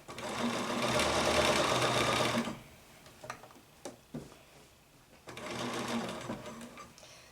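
A sewing machine stitches blouse fabric in fast rattling bursts, a close, loud run of needle ticks, a pause filled with small clicks and handling, then a second burst.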